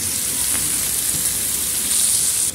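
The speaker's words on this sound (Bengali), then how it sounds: "তেল দিয়ে দেবো, দিয়ে চিংড়ি মাছটা দিয়ে তারপরে ভেন্ডি ভাজবো" Shrimp and okra fry in oil with onions, giving a loud, even, close sizzle like steady rain that holds without a break, with no talking over it.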